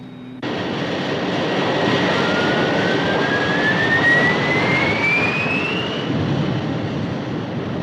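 An aircraft's vertical jet engines roar suddenly and hold steady, with a rising whine sweeping upward through the continuous thunderous blast.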